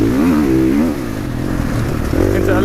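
A 2022 GASGAS dirt bike engine revs hard and close, its pitch rising and falling as the throttle opens and eases on a riding track.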